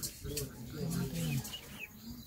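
Soft, low cooing from pigeons comes in short phrases over a noisy background with faint voices.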